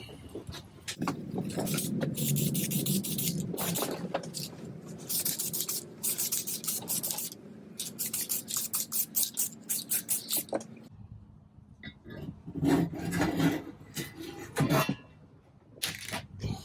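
A spray paint can hisses in repeated short bursts while coating VW bus engine tins, fairly quiet and close, with pauses between sprays.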